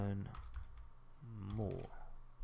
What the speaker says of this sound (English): we're going to type in learn